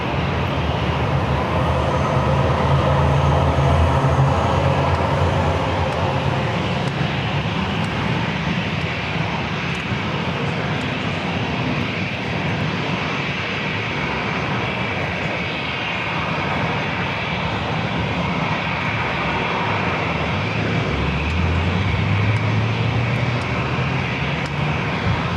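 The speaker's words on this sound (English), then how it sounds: "Flight rolling down to 27, heading to Sacramento in a Southwest" A Southwest Boeing 737-700 rolls down runway 27 for takeoff, a loud sustained jet roar with dense broadband rumble holding steady and close throughout, with no voices.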